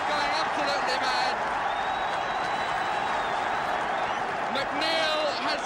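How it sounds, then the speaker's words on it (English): A football crowd roars after a late goal at an FA Cup fifth-round tie between Wrexham and Blyth Spartans, a sustained, dense roar with scattered whistles and clapping, heard under an excited commentator's voice. "And the crowd going absolutely mad."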